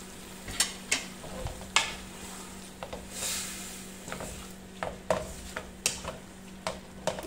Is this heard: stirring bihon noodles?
yes